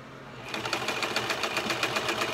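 Sewing machine stitching gathering rows on a satin bonnet starts up after a brief quiet moment, then runs in a fast, even mechanical rhythm, close and steady without talk.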